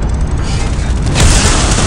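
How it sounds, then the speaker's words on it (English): A Catalyst missile explosion in Command & Conquer Rivals makes a loud, dense roaring blast that swells further about halfway through and fills the whole moment. "Catalyst missile incoming."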